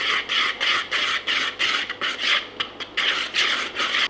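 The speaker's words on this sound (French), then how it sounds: "Nous allons mélanger." Flour being mixed into batter in a mixing bowl, a close rhythmic scraping and rasping that repeats in quick strokes for several seconds.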